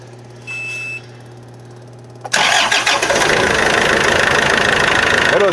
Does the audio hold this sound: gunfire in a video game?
no